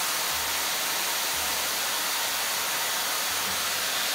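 A hot air styler, a budget alternative to the Dyson Airwrap, blows at high heat as a loud, steady, broadband airy roar with a low motor hum that pulses a few times, and no one speaks.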